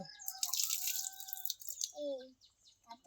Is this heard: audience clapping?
no